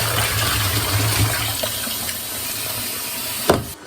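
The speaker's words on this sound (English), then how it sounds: "fill this with the hottest water that we can get" A faucet pours the hottest available water into a tub for fabric dyeing, a steady close rushing fill that runs throughout, ending with a brief knock.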